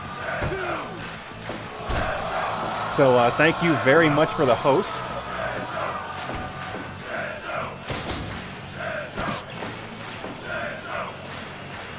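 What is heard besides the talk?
crowd noise sound effect played for wrestling match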